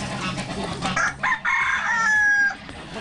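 Chickens of many breeds cluck and chatter loudly nearby, with roosters crowing in long drawn calls over the busy flock.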